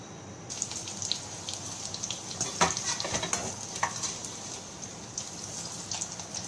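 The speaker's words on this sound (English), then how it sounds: "Let me fry some more and then we can go to the assembling of the chaat." Street food snacks for chaat frying in oil, a steady close sizzle with occasional crackles and stirring scrapes, no talk.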